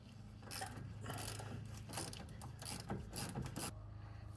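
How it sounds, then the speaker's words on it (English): A ratchet with a 10 mm socket loosens the Loctite-coated steering pinch bolt on a 2010 Ford Expedition rack and pinion, giving a run of quick, close clicking bursts with brief pauses between strokes. "So the first thing we have to do is use a 10 and remove the pinch bolt."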